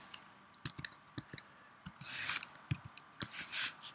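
Keys on a computer keyboard tapped while entering values into a spreadsheet, in quiet, close, irregular bursts of clicks with soft breathing between them.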